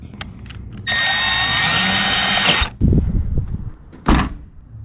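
A power screwdriver backs out Phillips head screws in a vehicle interior, giving one loud, steady whirring burst of about two seconds, followed by clunks and handling noises and a short final buzz.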